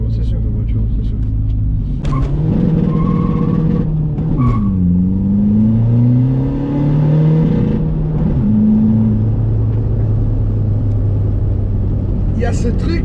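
A SEAT Ibiza 6L 1.9 TDI diesel accelerates hard through the gears, its engine drone rising in pitch, dipping at each shift, then climbing again, while people talk throughout.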